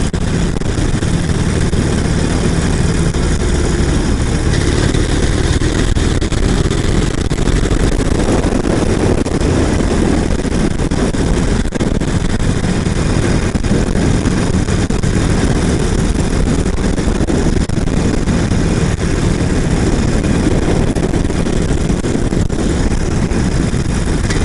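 A Harley-Davidson Iron 883 motorcycle engine drones steadily while riding at night near Ganjeolgot in Busan, a loud, continuous low rumble with wind noise and no pauses.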